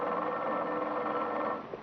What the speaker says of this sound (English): It is ringing now.